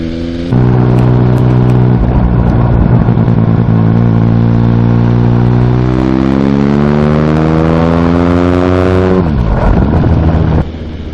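A motorcycle ridden on a training run, its engine pulling in a loud, steady drone that climbs gradually in pitch as it accelerates, then drops sharply and fades near the end, with wind buffeting throughout.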